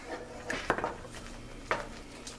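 A spoon stirs tomato sauce in a pan, producing a few sharp clinks and scrapes against the metal at an irregular pace, fairly quiet and close, with no talking.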